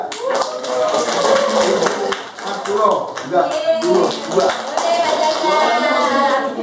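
Hands clapping at a school principal's welcome address during the formation of a school committee, a fairly steady patter of applause running under a man's continuing speech throughout.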